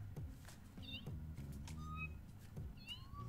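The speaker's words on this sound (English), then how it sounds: "Better play with my cat." A cat in No More Heroes gives several short, high meows in quick succession over a soft, steady game music bed.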